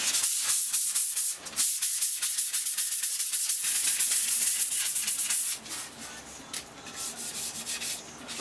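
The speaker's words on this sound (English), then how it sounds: "let's give these a little sand off." Filled wood veneer is hand-sanded between finish coats, with close scratchy back-and-forth rubbing strokes in quick rhythm that pause briefly, then carry on more softly.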